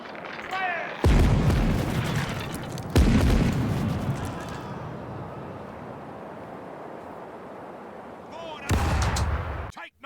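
Several heavy ship cannon blasts from a naval battle in the video game Caribbean Legend, thundering close and loud in separate volleys, with a long rumbling decay after each shot and faint game voices between them.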